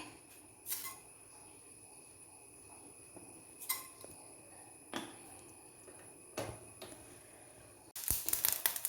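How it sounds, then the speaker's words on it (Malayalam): Mustard seeds in hot oil in a pan for dried fish pickle, giving scattered sharp pops a second or two apart, then a sudden dense burst of crackling spatter at the end, close and fairly quiet. "കടുക് പൊട്ടി"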